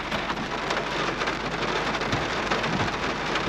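Heavy rain pours down continuously at a riverside campsite in Tanay, Rizal, a loud, dense roar of drops drumming on surfaces with no pauses.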